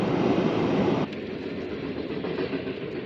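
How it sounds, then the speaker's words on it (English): A train rumbles past close by in Piqua, Ohio, during high winds and flooding, a loud, steady roar of clattering wheels that eases slightly after the first second. "Gotta wait on the train."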